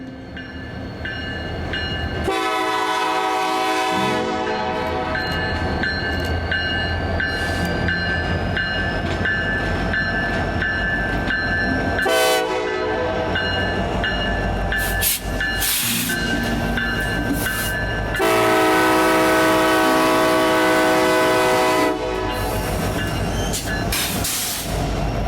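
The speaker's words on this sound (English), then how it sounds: "This was an empty Kansas City Power and Light coal train coming from the power plant in Lawrence." An empty Kansas City Power and Light coal train, returning from the power plant in Lawrence, rolls past loudly and steadily at Santa Fe Junction, with rumbling cars, squealing wheels and bursts of horn throughout.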